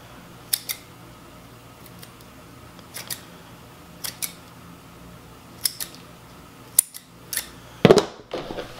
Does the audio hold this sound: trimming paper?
yes